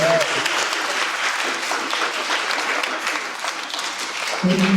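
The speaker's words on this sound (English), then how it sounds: "Let's give it a big round of applause." An audience gives a loud, dense round of applause after a women's stunt panel, many hands clapping continuously throughout, with a short burst of sound at the start and end.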